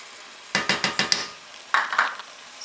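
Thai green curry shrimp hitting a hot pan, with a run of five sharp clattering stirs and scrapes followed by a burst of hissing sizzle, close and fairly loud.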